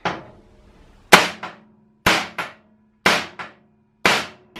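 A hammer and punch strike metal on a motorcycle lift to make a dent for a drill bit. Five sharp, loud, ringing blows land about a second apart, several with a quick second tap.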